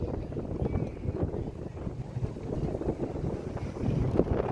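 Steady wind gusts buffet the microphone under South Congress Bridge in Austin, Texas, a continuous rumbling roar that swells and eases without a break.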